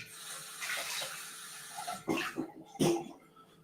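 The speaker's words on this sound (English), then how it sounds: "rinse my jigger." Bar jigger rinsed under a running tap, with a steady low hiss of flowing water and a few louder splashing bursts near the end.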